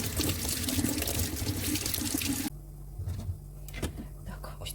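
Running tap water splashes steadily over lavender cuttings being rinsed in a sink, loud and close for the first half, then cutting off to quieter handling sounds.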